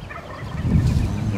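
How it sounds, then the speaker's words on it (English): Wild turkey gobbling outdoors in Montana, a low rolling burst of gobbles heard at moderate distance over a noisy background. "I heard a couple more gobbles on the ground"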